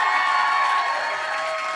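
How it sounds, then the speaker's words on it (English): Live audience applause and cheering at a Toronto podcast show, a dense steady wash of clapping with scattered whoops that holds loud and then eases slightly toward the end. "Give yourselves a round of applause for making it out to the show."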